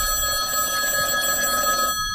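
A telephone rings with a steady electronic tone, close and continuous for a couple of seconds and then stopping, with no talk.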